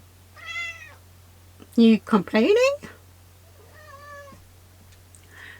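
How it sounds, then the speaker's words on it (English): A cat meows several times, short plaintive cries with one louder drawn-out yowl in the middle, close by inside a camper van, while a person speaks briefly over a steady low hum. "That's my cat."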